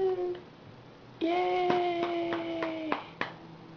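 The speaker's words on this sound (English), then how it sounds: "Applaud for Claire." A small group claps for a child named Claire, a short burst of close, uneven hand claps under excited cheering voices, starting after a brief cheer and fading within a few seconds.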